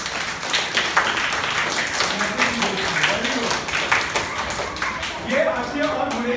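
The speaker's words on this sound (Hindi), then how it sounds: "ताली बजाओ।" Class 4 schoolchildren clapping together in a classroom, a steady run of quick hand claps over several seconds with voices talking alongside.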